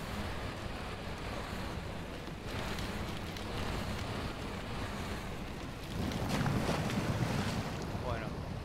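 A truck in the SnowRunner video game rolls down into water, producing a continuous washing, splashing rush over a low engine rumble, swelling louder near the end as it pushes deeper.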